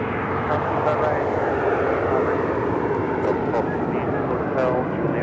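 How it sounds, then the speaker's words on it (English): A United Boeing Dreamliner airliner at LAX, in from Australia, gives a steady broad engine roar that holds at a constant level throughout, with talk audible over it. "That is the United Dreamliner that came in from Australia this"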